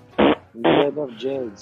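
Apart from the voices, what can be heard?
fart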